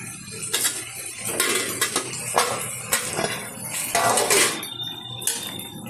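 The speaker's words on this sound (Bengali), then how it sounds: "ঢাকনাটা তুলে দিচ্ছি" A cooking pot lid lifted off a pan of potato, eggplant and fried prawn curry, bringing a run of metallic clinks and clattering pot-and-utensil knocks, close and fairly loud, several sharp hits spread across the stretch.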